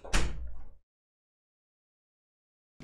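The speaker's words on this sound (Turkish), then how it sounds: "Kapıyı kapatsana." A door is pushed shut with a single close, solid thud that dies away fast, followed by near silence until a faint sound at the very end.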